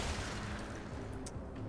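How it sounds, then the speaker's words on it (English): A short, dense burst of rapid gunfire in the Fortnite video game on PC, loud and continuous with overlapping shots and no talking. "The gunfire is definitely a little bit on the louder side."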